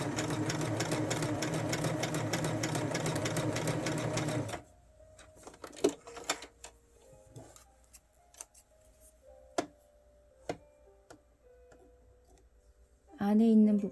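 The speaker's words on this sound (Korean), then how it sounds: "안에 있는 부분 다트부터 먼저 다 박음질 해줄게요." A sewing machine runs loud and steady for about four and a half seconds while stitching darts in fabric, then stops. Scattered clicks and handling noises follow, and a brief louder burst of the machine comes at the end.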